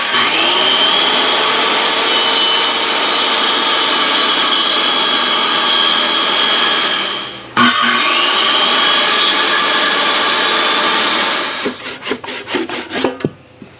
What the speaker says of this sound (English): Now this is the first 6x6 post that we're going to cut